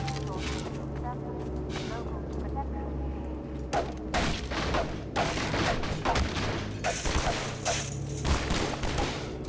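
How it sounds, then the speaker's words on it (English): Gunfire in the video game Half-Life 2: repeated bursts of gunshots, some rapid and clustered, over a constant low game rumble, loud and close. "I'm a big fan of the gun sounds in this game"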